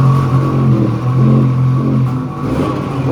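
A homemade snow vehicle called the Bromobile, with freshly changed spark plugs, has its engine revved on the throttle outdoors in the snow, giving a loud, steady, close-up engine drone that swells and eases with the throttle.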